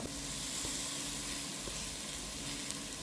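Mutton with spices and potato frying in a pan for a Kerala-style curry, a steady broadband sizzle with faint stirring scrapes, close and continuous with no talk.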